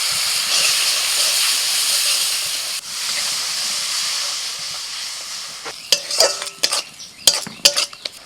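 Ground cumin, coriander, chili and turmeric are stir-fried with fried onion and garlic in a pan, giving a steady close hiss that ends in a burst of sharp metal spatula clinks and scrapes.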